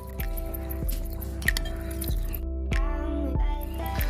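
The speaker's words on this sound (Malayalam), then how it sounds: "അതുവരെ ഒന്ന് നന്നായിട്ട് ഇളക്കി മിക്സ് ചെയ്ത് കൊടുക്കുക" A spoon stirs aloe vera gel mixture in a bowl to make homemade hand sanitizer, tapping out steady, evenly spaced clinks over a constant low background hum.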